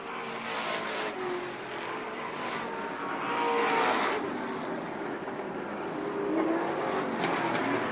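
Race cars circle an oval dirt track at a 2013 season-opening feature, a continuous roar of engines that swells and fades as the pack passes, with no talk over it.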